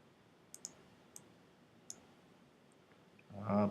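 A few sharp, faint mouse clicks sound one after another at close range in a quiet room, followed by a voice that starts speaking at the end.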